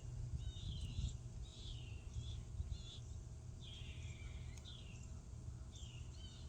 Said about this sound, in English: You hear little birds?